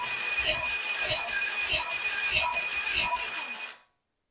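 A VW Bug 1776 engine cranks over during a compression test, giving a loud, close, rhythmic chugging of about six even pulses that stops abruptly.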